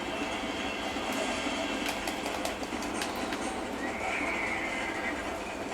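A wild horse whinnies in the Red Dead Redemption video game, the call set against a steady bed of outdoor ambience with faint clicks and rustles.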